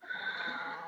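A rooster clucks in a flock with too many roosters, giving a single sustained, moderately close call with a strained, nasal quality against a quiet background, no talk.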